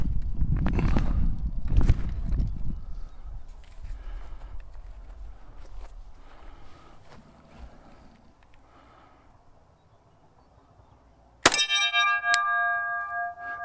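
A pistol bullet strikes a spinning steel target, ringing out as one sharp, loud metallic clang near the end, after quieter low rumbling and scattered thuds.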